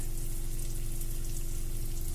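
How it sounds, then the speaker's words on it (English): Fried chicken sizzles in a pan as a steady, continuous hiss over a low hum, with no talking. "The sizzling pan, this one."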